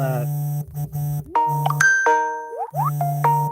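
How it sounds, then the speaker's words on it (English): A phone rings with an incoming call, a melodic tone pattern of steady held notes and rising chirps repeating in a loud, close, continuous sequence with no talk over it. "hold on, I got a phone call"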